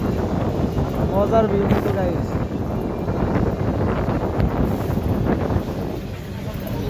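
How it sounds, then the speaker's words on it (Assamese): Cold wind buffets a moving NBSTC bus climbing the mountain road from Siliguri to Darjeeling beside the toy train track, a steady loud roar with engine rumble throughout while someone talks over it. "পুৰা ঠাণ্ডা ঠাণ্ডা বতাহ আহি আছে।"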